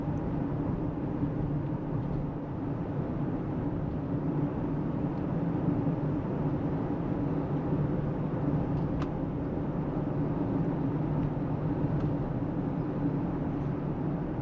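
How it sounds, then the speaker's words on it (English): Steady broadband road noise rumbles inside the cabin of a Ford Explorer XLT family SUV, with some wind from the roof crossbars, constant and moderate throughout with no talking. "There is a little bit of road noise that comes in here, but it's almost certainly from the crossbars."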